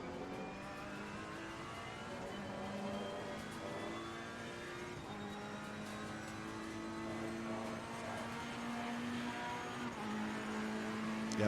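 Ferrari 488 GT3 Evo race car engine at Silverstone in a racing video game, a continuous droning, revving engine note that climbs and shifts through gears, steady and fairly quiet, with no speech.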